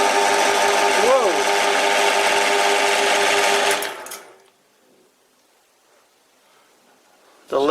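A metal lathe takes light thread cuts on a spindle thread for an ER32 collet chuck backing plate. A loud, steady mechanical whir with a whining tone runs, then cuts out abruptly into near silence before briefly starting again at the end.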